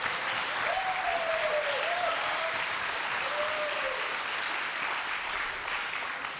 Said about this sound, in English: Round of applause for Hugo.